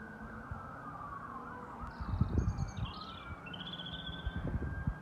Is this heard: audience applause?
no